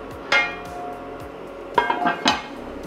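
A lid being set on a pot of coq au vin, one metallic clink and then a quick cluster of rattling clatters of metal against metal, close and fairly loud.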